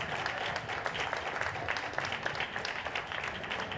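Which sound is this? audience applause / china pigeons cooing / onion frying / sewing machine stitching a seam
audience applause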